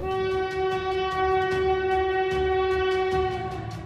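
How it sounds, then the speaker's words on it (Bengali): Whistle of a speeding train at night, a loud sustained tonal blast held for several seconds over rumbling, rattling carriages, steady and close. "ট্রেনের হুইসেলের তীব্র শব্দে শঙ্কর ঘোষ আর দিবাকর যেন হুঁশ ফিরল"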